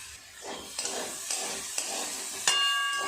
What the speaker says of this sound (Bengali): খুব ভালো করে একটু কষিয়ে নিয়ে জল দিয়ে দেবো।